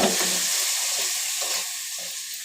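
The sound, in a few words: stirring dried aair fish into fried spice paste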